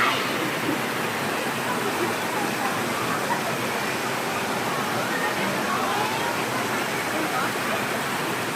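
Hin Lad Waterfall near Nathon on Samui pours in a steady, dense broadband rush of falling water, continuous and fairly loud throughout with no breaks.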